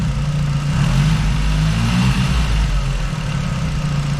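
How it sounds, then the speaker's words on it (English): An Audi A3 8L 1.8T quattro engine idles with its mass airflow sensor unplugged, giving a steady, close, continuous low rumble that stays even throughout with no talking. "The engine runs much better now."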